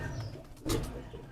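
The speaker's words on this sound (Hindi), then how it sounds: "तगड़ा कबूतर है।" A Ferozpuri pigeon gives a brief, soft, low coo, faint and close, against a steady background hum.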